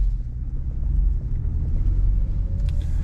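A 2024 Ford F-150 STX with the 2.7-liter engine drives along, giving a steady low engine and road rumble with light wind noise, fairly quiet and continuous with no talking.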